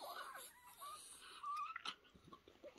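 Mini Bull Terrier puppy yawning in the morning, a faint, close, squeaky wheezing whine that rises and breaks off, followed by soft snuffling breaths.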